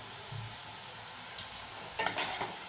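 Whole spices, including mace, sizzle in hot oil in a pan while a utensil stirs and scrapes, soft continuous frying, with a burst of louder scraping near the end, close and without speech.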